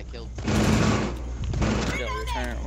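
Automatic rifle fire from a Rainbow Six Siege match, a sustained burst emptying a full magazine, loud and dense across most of the clip, with players talking over it.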